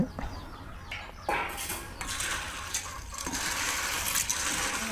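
Red beans being rinsed in water: splashing and swirling that grows louder and denser toward the end, with faint background noise and a soft voice early on.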